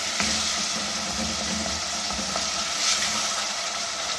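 Spiced masala of tomato frying in a pan for a turnip and potato curry, a steady close sizzle with soft stirring scrapes throughout, no voices.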